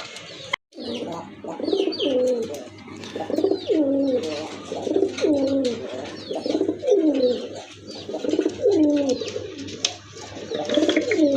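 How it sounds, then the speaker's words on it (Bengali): Domestic pigeons (Bengali desi golla breed) coo repeatedly in a steady rhythm, close by, with soft throaty calls overlapping throughout and faint chirps in the background. "এটা কিন্তু অরিজিনালি গোল্লা কবুতর, দেশি কবুতর"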